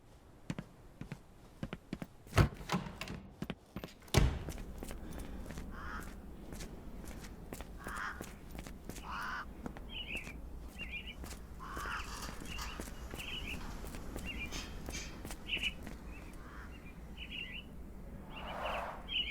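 Caged mynah birds call in Sherlock Holmes: The Awakened, giving repeated short chirps and whistles over a low ambient hum, with a couple of sharp thuds and soft footsteps early on.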